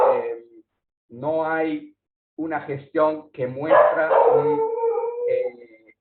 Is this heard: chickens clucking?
no